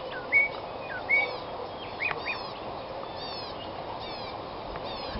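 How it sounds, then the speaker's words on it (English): Blackbird in a mulberry tree giving a few short chirping calls, fairly close and clear against a light outdoor background, with other faint bird notes scattered through. "There's the contented blackbird."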